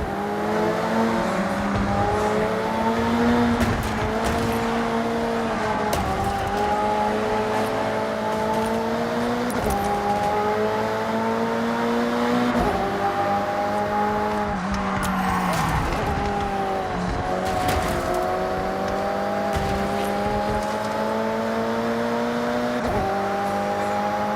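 Race cars in a Forza video game race roar continuously at close range, their engines rising and falling through gear shifts, with occasional tire squeal and other cars passing.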